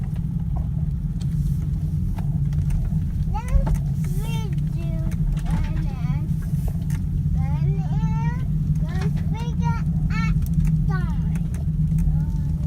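A Honda Pilot SUV rolls along an off-road trail at night, its steady low engine and road rumble continuous and close throughout while people talk over it.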